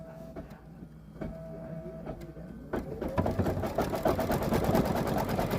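An embroidery machine in the hoop stitches a zigzag to join two pieces of a shamrock coaster. A rapid, steady mechanical whir and clatter starts softly, then gets louder and denser after a few seconds, running close and continuous.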